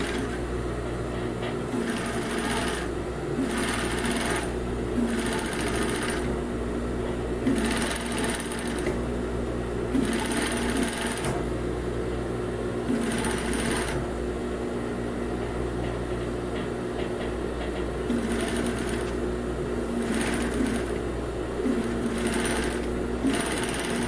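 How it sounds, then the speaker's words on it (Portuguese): A sewing machine topstitches elastic on a plus-size swimsuit without cups, running steadily for the whole stretch in repeated bursts of stitching with brief slowdowns, close and clear with no talking. "Agora a gente vai prespontar todo o elástico que a gente acabou de fazer"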